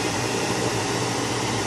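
A kitchen vent fan runs while dried fish cooks indoors, a steady, loud broadband whir holding constant throughout with no voices over it.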